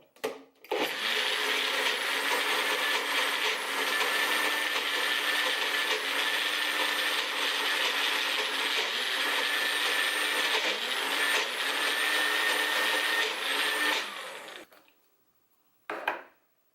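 A Magic Bullet blender runs steadily for about fourteen seconds, a loud, even motor whine grinding food, then cuts off and gives one brief final pulse; no talking.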